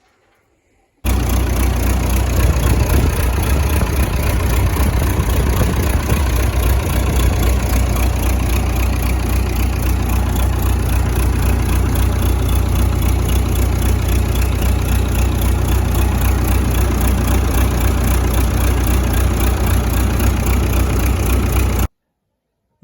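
A Massey Ferguson 440 tractor's diesel engine idles steadily at close range after fresh oil and fuel filters, a constant low rumble with no changes in pitch, running for about twenty seconds before cutting off.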